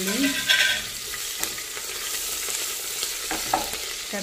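Chopped onions frying in oil with cumin, cardamom, cinnamon and cloves in a home kitchen, a steady close sizzle with a few louder stirring scrapes and clatters, no talk.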